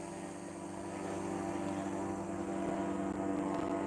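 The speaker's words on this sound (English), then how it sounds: "They've got like planes and drones flying over." A steady, broad engine drone from planes and drones flying overhead, a continuous distant rumble that swells slightly and never fades out.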